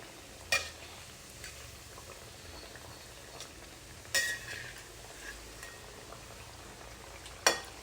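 Pieces of tofu frying in hot oil in a pan: a steady, faint sizzle runs throughout, broken by three sharp spatters or utensil clicks near the start, middle and end.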